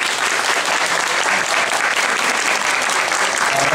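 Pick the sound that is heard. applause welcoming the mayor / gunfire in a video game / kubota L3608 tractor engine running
applause welcoming the mayor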